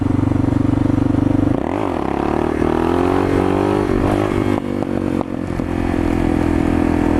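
A Suzuki DR650 dual-sport motorcycle engine revs hard and loud during a wheelie, its drone rising and wavering in pitch as the throttle is worked, with no voices over it.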